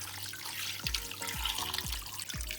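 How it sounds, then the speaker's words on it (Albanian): Water is poured into a pot holding fried chicken, a continuous splashing, gurgling flow with a few sloshing surges, fairly close and with no talking. "Pra do të hedhim 1 litër e 1 gjysmë ujë."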